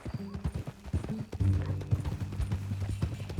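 Horse hooves clip-clop at a steady walking pace in the video game Red Dead Redemption 2, close and clear, with rhythmic knocks over a low rumble of tack and movement.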